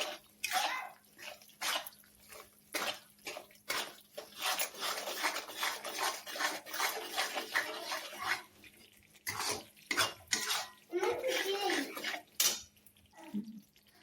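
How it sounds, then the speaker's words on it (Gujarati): A ground edible gum mixture is stirred slowly in a pan while gund laddoos are made, giving repeated scraping and clinking of a utensil against the pan in irregular bursts, close and fairly quiet, with no talk. "દળેલો ગુંદર નાખી દઈશું. હલાવીશું ધીમે ધીમે."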